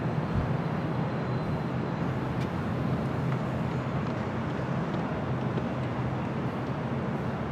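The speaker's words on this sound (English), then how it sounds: "Fiji Airways Flight 810 coming up from Nandi. The A350-900 now just touching down." A Fiji Airways Airbus A350-900 touches down at LAX, heard as a steady, loud broadband roar of jet engines and rushing air that holds evenly throughout.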